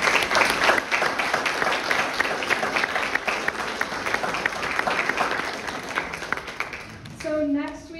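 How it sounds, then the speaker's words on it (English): An audience applauds steadily after a talk on dredging the mouth of the Columbia River, a dense, even clatter of many hands lasting about seven seconds before a voice briefly cuts in. "let's give Julia one last round of applause."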